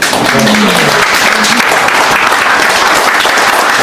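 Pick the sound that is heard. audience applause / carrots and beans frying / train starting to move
audience applause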